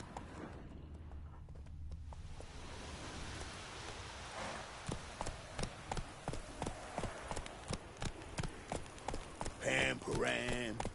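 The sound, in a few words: horse Roach's hooves clip-clopping, from the video game The Witcher 3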